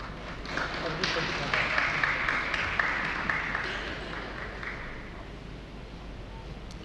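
Audience clapping in the Central Hall of Samvidhan Sadan during the National Youth Parliament Festival, a steady mass of applause filling the large hall and fading toward the end, with a voice speaking over it.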